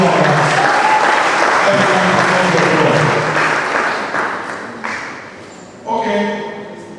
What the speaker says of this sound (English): a round of applause for Pastor J.B. Schwartz